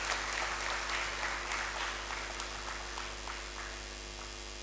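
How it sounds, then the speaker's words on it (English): A lecture-hall audience at an inaugural university lecture applauds the evening's chair: dense, steady clapping from many hands that starts loud and slowly fades over a few seconds, with no voices. "I think our chair deserves a round of applause at this stage."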